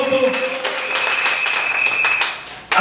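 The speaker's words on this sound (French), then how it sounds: "Quelqu'un peut applaudir pour les Seigneurs." A church congregation bursts into clapping, dense applause lasting a few seconds with voices mixed in, then cutting off sharply near the end.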